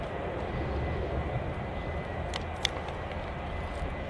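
A Lockheed C-130 turboprop aircraft flying high overhead near Manchester Airport, a steady, continuous engine drone with a few faint clicks and no talk.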